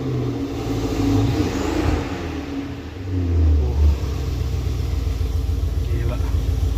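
A 2012 BMW X5 M LCI facelift (E70) fitted with an aftermarket exhaust, its engine blipped with a couple of deep, rumbling revs that swell and fade over a low idle, close by and fairly loud.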